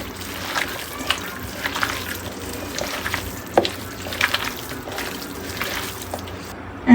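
Hands knead pieces of big fish with oil and spices for a Bengali chachhari, producing intermittent wet squelches and slippery splats, close and moderately quiet, with no talking.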